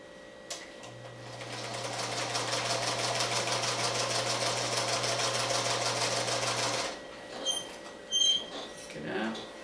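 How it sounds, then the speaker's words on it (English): Sewing machine stitching a pineapple quilt block, a steady fast whirring run of about six seconds with a low hum, followed by a few short clicks and handling sounds once it stops. "Put a pin there and we'll turn it over and we'll stitch on the line."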